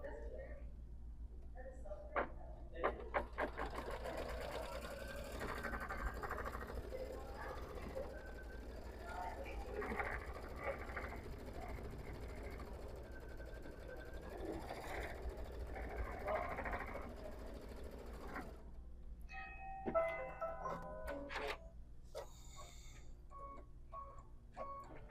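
Sewing machine stitching a plaid fabric appliqué, a fast steady mechanical whirr with ticking clicks that runs for a long stretch, close but quiet, with people speaking over it.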